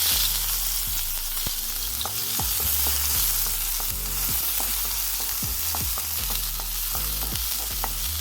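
Onion sautéing in a hot pan for simple misua, a continuous close sizzle with repeated scraping stirs of a utensil at a steady rhythm, no voices.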